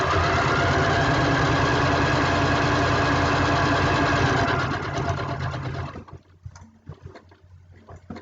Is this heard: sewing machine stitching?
yes